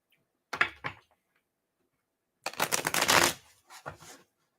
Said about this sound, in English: these cards just aren't shuffling really, really well.